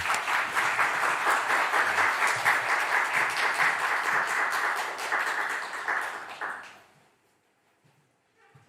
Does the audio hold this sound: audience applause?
yes